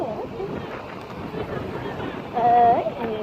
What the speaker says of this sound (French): il y a du vent, donc je vais essayer de parler un peu plus fort